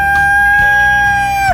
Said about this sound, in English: We have a few roosters.